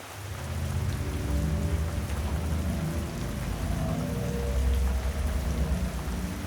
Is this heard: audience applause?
no